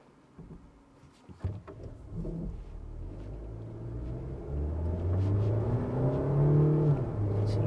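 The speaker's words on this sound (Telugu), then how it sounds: "ఇంజన్ సౌండ్ కూడా బాగుంది" Steady low engine rumble from a Mahindra Scorpio-N while driving, heard from inside the cabin and growing slightly louder and fuller as it goes, with no talking.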